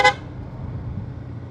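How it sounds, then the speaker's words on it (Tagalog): A single short car horn honk on a drive near Bolinao Beach in Pangasinan, loud and close, cut off quickly and followed by the low rumble of the moving car. "Busina ka ulit."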